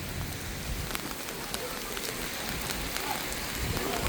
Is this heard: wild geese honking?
no